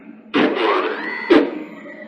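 An APSX-PIM injection molding machine clamp moves home with a mechanical whir and a rising motor tone, ending in a sharp clunk near the end, loud and close with no talking.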